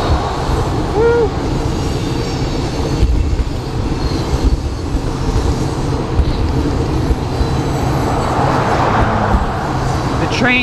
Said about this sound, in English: The train's going behind the shopping center, so you can't really see it.